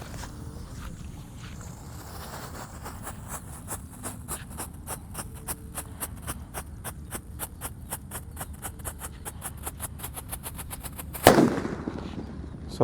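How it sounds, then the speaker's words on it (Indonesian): A red Disco Happy Flower firecracker goes off in a long rapid string of sharp cracking pops, steady and close for about ten seconds, ending in a louder final burst and fizzing hiss. "kita nyalakan mercon Disco Happy Flower yang warna merah, ini yang lap-lap door"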